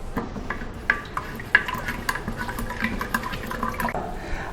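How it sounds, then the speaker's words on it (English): A spoon stirs sugar into mango juice inside a fermenter for homemade mango wine, with soft liquid swishing and occasional clinks against the container, steady and close, with no talk. "Now we need to stir the sugar well until the sugar dissolves."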